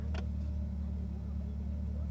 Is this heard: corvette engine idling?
yes